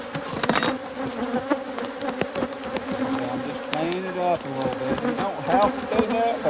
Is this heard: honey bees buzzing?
yes